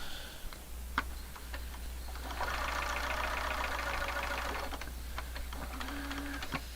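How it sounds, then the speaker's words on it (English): A sewing machine runs a seam through quilt pieces in a quick, even burst of rapid stitching lasting a few seconds, framed by scattered clicks and light handling noises over a low steady hum. "and I will sew it."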